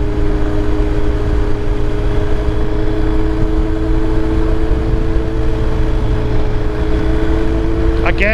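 A 2023 BMW R 1250 GS Adventure motorcycle's boxer engine drones steadily while riding in sixth gear, a continuous near, loud hum with wind noise and no talk.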